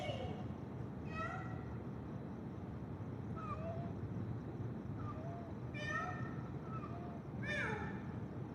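Chloe the cat meows several times, short rising and falling calls spaced a second or two apart, fairly quiet over a soft indoor background.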